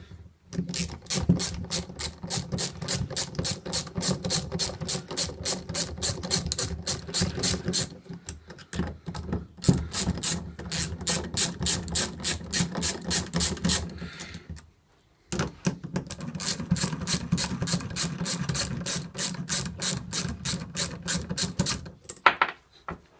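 Rapid ratchet clicks as bolts are backed off a fuel rail on a turbocharged Honda CBR929RR SC44 motorcycle, with three long bursts of steady clicking broken by short pauses and no talking.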